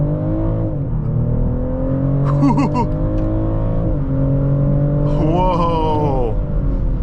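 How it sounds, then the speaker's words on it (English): A 2024 BMW X5 xDrive50e SUV accelerates hard from a standstill toward 60 mph, heard from inside the cabin as a loud, steady drivetrain roar with rising tones, while a voice talks over it in a couple of short bursts. "Let's see how quick this X5 is 0 to 60."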